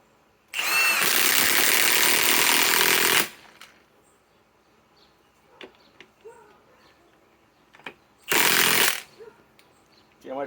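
A Milwaukee M18 Fuel impact wrench with a high-output battery fires in two loud, close bursts, one long and one short, separated by quiet clicks and handling noise.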